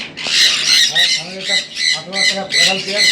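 A sun conure parrot at a bird farm gives a series of loud, harsh squawks in quick rhythmic succession, very close and dominating the scene.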